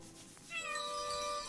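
A single cat meow, short and rising, close and clear, with no talk over it.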